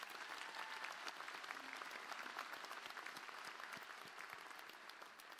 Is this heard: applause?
yes